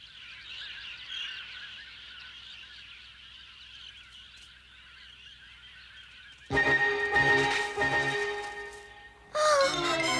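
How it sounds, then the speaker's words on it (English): Jungle birds give honking, goose-like warning calls, a continuous chattering chorus that gives way to loud, sharp bursts of calling. "The birds are warning of Shere Khan"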